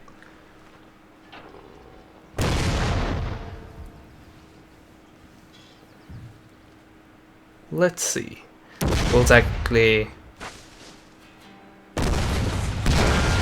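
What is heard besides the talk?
cannon fire in Total War: Shogun 2 Fall of the Samurai video game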